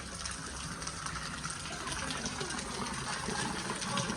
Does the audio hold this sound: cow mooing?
no